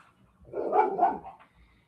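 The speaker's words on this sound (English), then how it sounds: "that's the dogs getting after it" Several dogs barking a short distance away, a brief cluster of overlapping barks rising and fading in under two seconds, with no talk over them.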